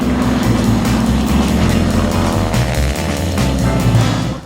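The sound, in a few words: Pratt & Whitney 1340 airplane engine running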